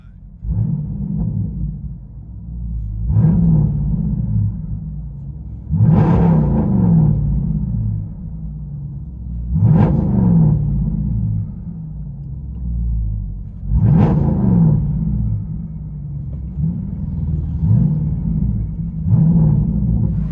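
A straight-piped Dodge Durango SRT 392 V8, heard from inside the cabin, gives a deep, loud rumble with repeated blips of revving, rising and falling about every four seconds over a steady idle.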